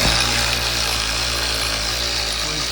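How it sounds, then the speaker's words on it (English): A power drill runs continuously at a steady high whine, drilling into a Ford F150 engine during a blown-out spark plug repair, loud and close with no talk. "make sure everything is even before I start drilling"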